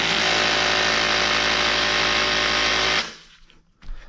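An airless paint sprayer primes its pump with the trigger squeezed, giving a loud, steady mechanical whirring and rattling that cuts off abruptly after about three seconds, followed by faint handling clatter.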